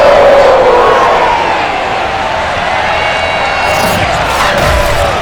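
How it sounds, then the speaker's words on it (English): A sold-out stadium crowd in the video game Madden NFL 22 roars and cheers at a Cincinnati Bengals home game, a loud continuous wash of voices with whoops rising toward the end. "The enthusiasm of this Cincinnati crowd in full effect a moment ago as their Bengals took the field to the delight of this sold-out crowd"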